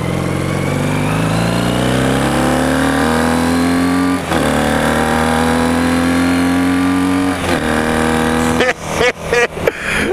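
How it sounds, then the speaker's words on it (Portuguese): A 1984 Honda CB400 cafe racer motorcycle engine revs loudly and steadily, pitch climbing gradually over several seconds with brief dips at gear shifts, then breaking into sharp blips near the end. "E o motor grita, viu, galera?"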